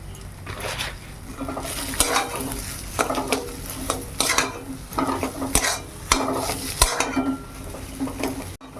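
Salted food is stirred and fried in a pan, with repeated loud scraping and clinking strokes of a utensil against the metal over a steady sizzle, coming in uneven bursts.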